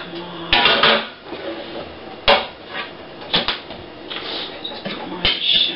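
Glass jars being soaked and handled in a kitchen sink, with scattered clinks and knocks of glass against the basin and some watery handling noise between them.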